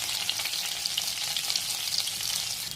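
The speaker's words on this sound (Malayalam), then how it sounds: "1 ടേബിൾ സ്പൂൺ വെളുത്തുള്ളി നുറുക്കിയത് ആണ് ഇപ്പം ഇട്ടത്. ഒരു 10-30 സെക്കൻഡ് ഇതൊന്ന് ഫ്രൈ ആവട്ടെ." Chopped garlic frying in oil and melted butter in a hot pan, giving a steady, close, continuous sizzle throughout with no talking.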